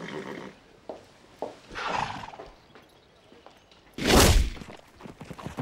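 A horse under a vet's examination for colic lets out one loud, close whinny, preceded by scattered hoof clops and shuffling movement on the ground, with more hoof sounds continuing afterward.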